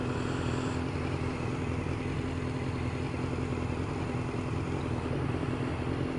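A BMW S1000R motorcycle engine buzzes steadily at cruising speed in sixth gear, a continuous loud drone with wind roar running throughout, no voices.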